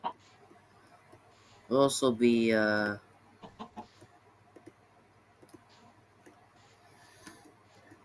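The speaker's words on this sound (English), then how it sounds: "oh, baby chicken." A baby chicken in Minecraft gives a short burst of clucking, followed by a few faint clicks and taps, and someone speaks briefly just before it.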